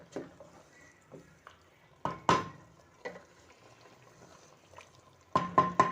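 Cauliflower and potatoes with spices being stirred in a pan for gobhi aloo: scattered quiet scrapes and knocks of a spoon against the pan, with a cluster of louder clatters near the end and a faint sizzle beneath.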